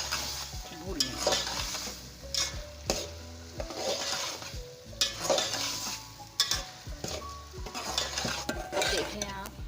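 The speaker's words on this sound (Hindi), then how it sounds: "ये देखें, इसको अच्छी तरह भून लेंगे, अच्छी तरह इसको भून लेंगे।" Mashed potatoes are stir-fried in oil in a pot. A spatula scrapes and knocks against the metal again and again in an uneven rhythm over a low sizzle, and a voice is heard briefly.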